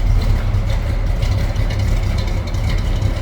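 A small block Chevy 400 V8 fitted in a 1938 Pontiac Silver Streak street rod idles with a lumpy, loping cam rhythm, loud and close, a steady low rumble with no one talking.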